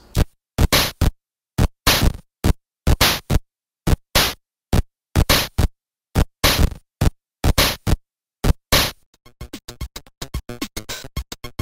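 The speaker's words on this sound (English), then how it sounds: "create a nice little drum sound like this." Short bursts of harsh retro electronic noise from a chiptune noise channel hit in a steady drum rhythm, then switch to a faster, busier noise pattern near the end.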